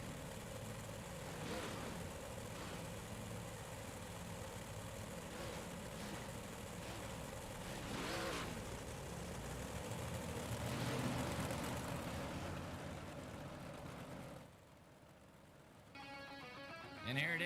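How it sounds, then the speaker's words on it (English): Big block modified race cars idle and warm up at Cedar Lake Speedway, a steady layered engine drone with occasional revs swelling, then the rumble drops away briefly near the end. "These guys are warming up their engines"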